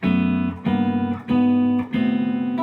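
A short melodic phrase of four sustained ensemble notes stepping upward, each attack clear and rich, played loudly without any talking.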